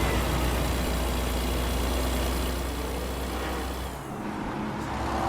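A Porsche car rolls behind a big rig in American Truck Simulator on a Nevada road, its engine blending into a steady, loud low rumble and drone that dips briefly near the end, with no talking.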